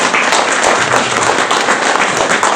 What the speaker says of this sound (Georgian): აპლოდისმენტები აი